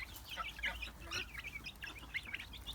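Chickens and roosters in a backyard coop, with a few quail kept nearby, give a quick scatter of clucks and short squawks, fairly faint, with no talking.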